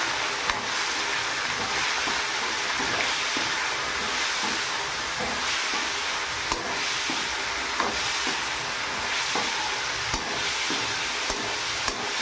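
Flattened rice pilaf fries in white oil while being stirred, a loud, continuous hiss and sizzle close up with faint periodic scrapes of the spoon and no talk.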